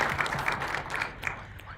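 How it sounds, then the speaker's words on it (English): An audience at a global health intelligence centre launch event claps in a soft, steady patter, moderately distant, with a voice briefly audible over it. "Let's again give Dr. Palmer a round of applause"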